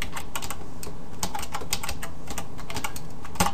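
Rapid, steady typing on a computer keyboard while a web form is coded, a continuous patter of close, crisp keystrokes with no talking.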